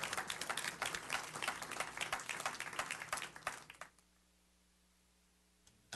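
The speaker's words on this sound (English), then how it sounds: "Let's give her another round of applause." A room at a city council meeting breaks into a round of applause with crisp, close individual claps that thin out and stop abruptly after about four seconds, leaving near silence with a low hum.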